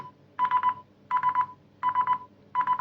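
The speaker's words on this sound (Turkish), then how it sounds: "Ve şu şekilde telefonumuz ötüyor." An electronic phone tone from a Polosmart PSSW15 smartwatch rings in four evenly spaced bursts, each a short warbling trill, clear and close with quiet gaps between.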